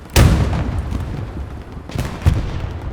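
Tank cannon fire in the World War II shooter Hell Let Loose at Carentan: one heavy, loud boom near the start, then a second blast about two seconds later, with rumbling tails and no talk.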